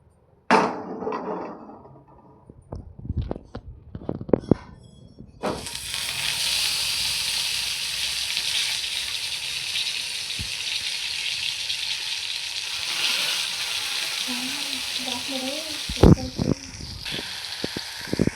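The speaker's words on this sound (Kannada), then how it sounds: "ಈಗ ಮೀನನ್ನ ರೋಸ್ಟ್ ಮಾಡ್ತಾಯಿದ್ದೀನಿ." Fish pieces frying in a hot pan for a fish fry give off a loud, steady hissing sizzle that runs for many seconds, preceded by a few sharp clinks and taps of utensils.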